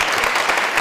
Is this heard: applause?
yes